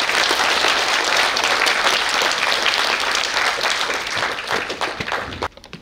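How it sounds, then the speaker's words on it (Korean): A large audience applauds at a high school admissions information session at Gimcheon High School, with dense, steady clapping that fills the room and then thins out and stops near the end. "큰 박수 부탁드리겠습니다."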